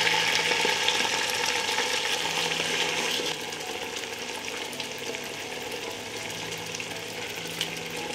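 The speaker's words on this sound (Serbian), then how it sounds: "Ulje se zagrejalo i sada spuštam papriku u šerpu na prženje." Peppers frying in hot oil in a pot give a steady, dense, close sizzle that runs throughout and drops slightly in level partway through, with no talking.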